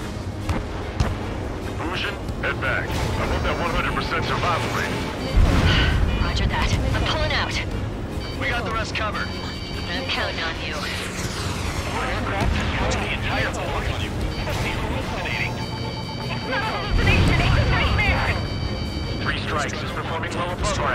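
Ace Combat 7 naval battle with continuous rumbling artillery fire and heavy booming explosions, two big blasts standing out, under jet engine roar and radio chatter from several voices.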